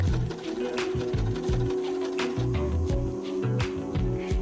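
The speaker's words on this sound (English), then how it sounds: "I'm now sewing another straight line down to create the pocket space for my elastic" A sewing machine stitches a straight line to form an elastic casing on a summer ruffle top, making a steady rhythmic mechanical chugging with ticking clicks, close and continuous.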